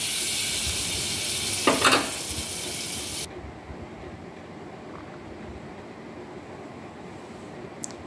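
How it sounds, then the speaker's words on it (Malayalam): Butter melts in a pan for a curry, hissing with a steady broadband sizzle and a couple of sharper spits for about three seconds, then dropping to a faint low hiss. "ഇനി ഒരു പാത്രം വെച്ച് അതിലേക്ക് കുറച്ച് ബട്ടർ ചേർത്ത് കൊടുക്കാം."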